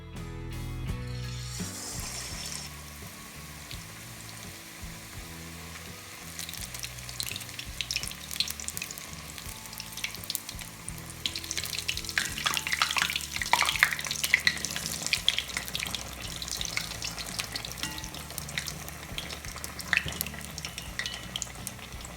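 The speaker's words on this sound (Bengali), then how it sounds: "আমরা এক চামচ এখন তেলের ভিতর দিয়ে দিব" A spoonful of egg batter dropped into hot oil for a spicy Bangladeshi egg patty, first a soft splash and then a steady crackling sizzle that grows busier and brighter, heard alone at moderate level.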